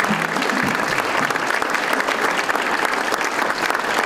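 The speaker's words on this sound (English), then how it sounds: "So please give a round of applause to Mr." An audience at a State of the City event claps steadily, a dense, even round of applause filling the room without pause for about four seconds.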